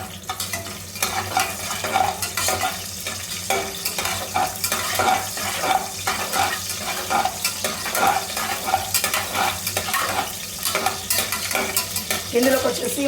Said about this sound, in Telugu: పచ్చిమిర్చి కూడా యాడ్ చేసుకోవాలన్నమాట.